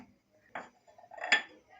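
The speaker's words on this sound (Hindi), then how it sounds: "अब इस पे मैं अदरक रख देती हूँ सारे।" Pieces of ginger set down one by one on a metal wire mesh grill over a gas flame, giving a few soft, close clinks and taps with quiet gaps between them.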